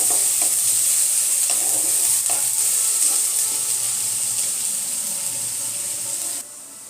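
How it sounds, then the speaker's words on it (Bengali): Onion, ginger and garlic sizzle steadily in a pan, with stirring scrapes every second or so, close and fairly loud, before the frying noise drops off abruptly near the end. "পেঁয়াজ আদা রসুনটা আমার ভাজা ভাজা হয়ে গেছে"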